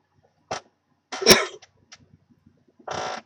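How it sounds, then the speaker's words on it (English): One person sneezes sharply and loudly up close, with a smaller breathy burst before it and another short noisy exhale afterward, in a quiet room. "It can't be a broadcast without a sneeze."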